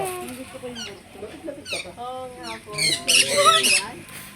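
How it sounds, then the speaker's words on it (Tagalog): Lovebirds or parrots at a wildlife rescue and conservation park squawk and chirp in quick, overlapping calls, sparse at first and then swelling into a loud, busy chorus near the end. "Parang lovebird siya."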